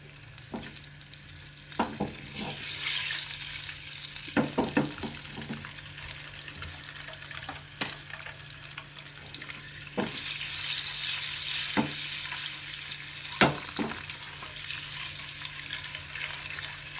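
Eggs with slits cut in them sizzle in a pot while a utensil scrapes and knocks against the sides in irregular strokes, close and moderately loud.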